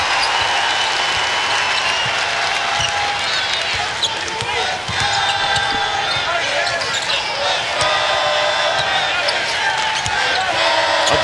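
A packed college basketball arena crowd at a Texas Tech vs. West Virginia game roars and cheers loudly and without letup, with sneaker squeaks and ball bounces mixed in and a commentator talking over it.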